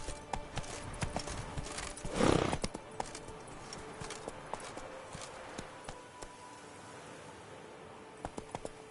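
Roach, the horse in The Witcher 3: Blood and Wine, with quiet rhythmic hoofbeats and a brief louder snort or whinny near the start, faint throughout.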